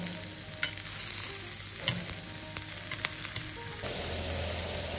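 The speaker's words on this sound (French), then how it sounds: "on va saisir les tranches de champignons" Mushroom slices sear in olive oil in a hot pan, giving a steady crackling sizzle broken by light taps and scrapes of a utensil, close and continuous with no talking.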